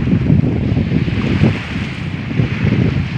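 Wind buffets the microphone at the seashore while sea waves wash in, making a loud, continuous rushing roar that swells and eases without any voices.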